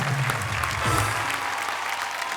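At a Hindi poetry show, an audience claps in a brief, steady burst of applause, with a low murmur of voices underneath.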